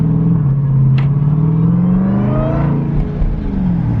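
A Jeep Trackhawk fitted with an AWE exhaust revs loudly and close, its deep engine rumble rising and falling under a high supercharger whine, with a brief sharp click near the start.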